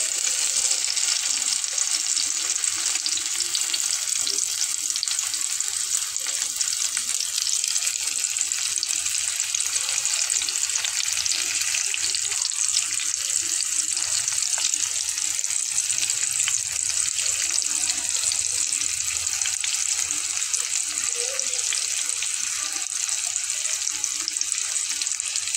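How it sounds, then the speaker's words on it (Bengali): Pieces of chichinga (snake gourd) frying in hot oil over a medium flame, a steady, loud bright hiss of bubbling oil holding constant throughout with no pauses. "এভাবে চুলার আঁচটাকে মিডিয়াম ফ্লেমে করে দিয়ে ভেজে নেব"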